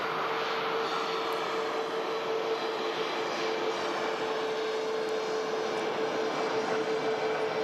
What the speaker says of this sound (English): Look at this beautiful bizjet arriving